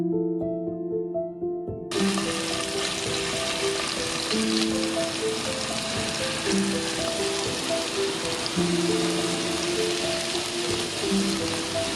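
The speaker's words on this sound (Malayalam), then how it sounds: "എണ്ണ ചൂടായിട്ട് വരുമ്പോൾ നമ്മൾ മാരിനേറ്റ് ചെയ്ത് വെച്ചിരിക്കുന്ന ഫിഷ് ഇതിനകത്തേക്ക് എടുത്ത് നമുക്ക് തിരിച്ചും മറിച്ചും ഇട്ട്" Marinated fish frying in coconut oil in a pan, a loud, steady sizzle that bursts in after a brief quiet opening and crackles on without pause, with music playing underneath.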